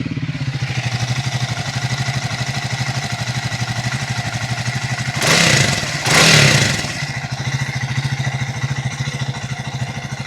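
Triumph Speed 400 single-cylinder motorcycle engine idling with a steady, rapid ticking shim noise from the engine internals, loud and close, with two short bursts of broadband noise partway through.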